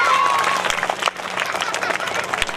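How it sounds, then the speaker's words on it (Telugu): An audience claps for a retiring teacher at a primary school retirement ceremony, a brief burst of fairly loud, dense applause with a voice faintly mixed in. "జయలలిత టీచర్ గారికి ఒకసారి గట్టిగా చప్పట్లు"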